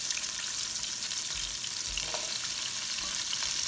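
Mushrooms frying in a hot pan with vegetables for a Philly cheesesteak, a loud continuous sizzle with occasional stirring scrapes and a few low knocks from the pan.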